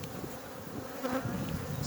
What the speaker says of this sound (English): So there we are, lots of bees.